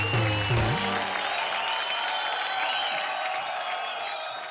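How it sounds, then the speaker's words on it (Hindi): Studio audience at a Hindi comedy show breaking into strong applause and cheers, loud at first and tapering slightly, a dense steady clatter of many hands with faint whistles, no talking. "जोरदार तालियां इन दोनों के लिए।"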